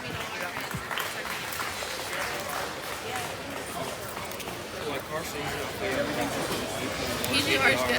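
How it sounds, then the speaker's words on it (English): Crowd in a livestock show arena applauds the exhibitors at a junior market barrow show, a steady spread of clapping with a voice over it that swells slightly toward the end. "Let's give them a nice round of applause."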